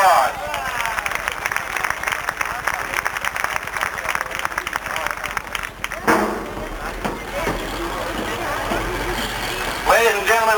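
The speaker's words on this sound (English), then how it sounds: "Let's give him a nice round of applause." A crowd applauds a racing figure at a speedway legends show, clapping over a noisy outdoor background with public address sound and some talk, shifting tone partway through.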